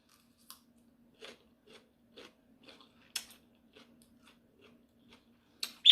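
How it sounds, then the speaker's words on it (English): Someone bites into and chews a raw radish up close, a series of sharp, crisp crunches spaced about half a second apart against near silence. "She crunching the hell out of that radish."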